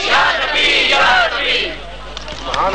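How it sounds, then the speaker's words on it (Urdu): A crowd at a devotional naat gathering chants slogans back with loud, fervent voices, rising and falling in unison waves with babble between, close and dominant throughout. "بہت خوبصورت نعرے اور آپ نے نہایت پرجوش ان کا جواب دیا"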